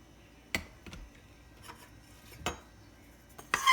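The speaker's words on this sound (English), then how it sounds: "Give it a little stir." Beans stirred in a crock pot with a spoon, a few sparse clinks and scrapes against the pot, close and quiet, ending in a louder rattling scrape.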